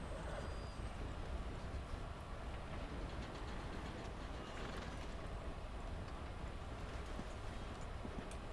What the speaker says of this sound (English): Come on, train, hurry up.